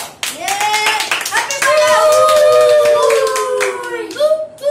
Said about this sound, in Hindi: तालियां तुलियां तो बजा लो।